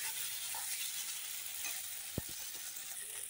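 Spice paste with tomato and a little sugar fries quietly in a pan, a soft low sizzle with one sharp knock of the spoon and a few faint scrapes as it is stirred.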